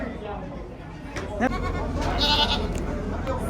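Sheep and lambs at a livestock sale, with a faint high bleat rising briefly beneath steady, close conversation and a busy market murmur.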